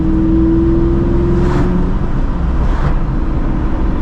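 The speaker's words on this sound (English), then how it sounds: "I love that side exit. It's got a nice throaty exhaust." A NewEdge Ford Mustang with its stock side-exit exhaust rumbles in a deep, steady low drone from inside the car, with a couple of brief swells as it cruises, no voices over it.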